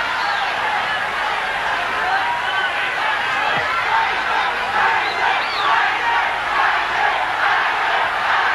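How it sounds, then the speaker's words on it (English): A boxing arena crowd jeers through the last round of a heavyweight bout, a sustained dense roar of many voices with scattered louder shouts and whistles, steady and fairly loud with a voice talking over it. "there's jeering coming in the last round"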